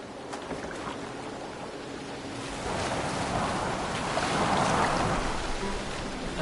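A boat sailing on open water in Assassin's Creed Valhalla on PS4, with a steady rush of waves and wind that swells louder midway and carries on without speech.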